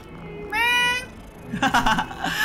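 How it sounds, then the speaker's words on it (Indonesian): A cat meows in the video game Hogwarts Legacy, one clear, close drawn-out meow followed by a shorter, rougher cry, with quiet game ambience behind. "Ada kucing."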